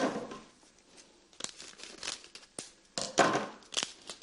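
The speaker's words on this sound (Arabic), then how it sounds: "راح ندير كيس واحد، نجيب مقص فقط" A plastic bag crinkles and rustles as dough is put into it, in bursts of close crackling with short pauses between them.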